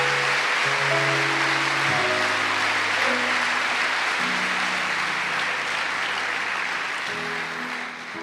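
Sustained applause fills a church during a men's retreat service, a broad, even wash of many hands. Steady organ or keyboard chords sound underneath it, and it eases slightly at the end.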